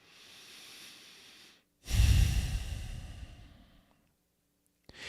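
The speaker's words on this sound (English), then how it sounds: "Thank you for this next breath." A slow, deep breath drawn in and let out during a guided breathing exercise, loud and close, rushing for about two seconds and then fading into silence, with no talking over it.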